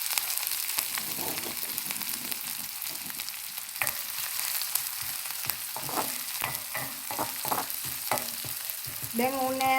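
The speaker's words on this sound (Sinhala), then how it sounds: "ඒ ටික රත් වෙද්දි මාළු මිරිස් ටිකයි කරපිංච ටිකයි දාලා හොඳින් කලවම් කරගන්න" Dried fish, chilies and curry leaves fry in hot oil, a steady close sizzle broken by repeated stirring scrapes and clatters, with no talk.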